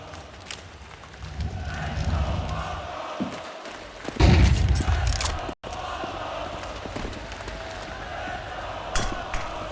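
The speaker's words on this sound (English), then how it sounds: "Crowds behind the Mongolz on this force buy." An esports arena crowd at the IEM Cologne 2025 quarterfinal, TheMongolz vs NAVI, sends up a sustained broad roar under a commentator's voice, swelling louder for a moment about midway and then settling back to a steady hum.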